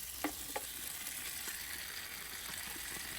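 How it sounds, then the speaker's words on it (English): Mutton pieces dry cooking in a pot over a medium-high flame for achaari mutton curry, with a steady low sizzle and a few sharp scraping knocks of continuous stirring near the start, no voices. "start dry cooking the meat for 5 to 6 minutes, stirring continuously"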